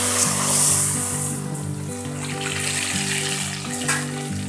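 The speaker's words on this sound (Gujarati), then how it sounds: "હવે આપણે કુરિયાની અંદર તેલ રેડીશું" Hot oil is poured into a jar of gunda pickle, a steady close sizzling gush that stays loud throughout over a layer of looping background music.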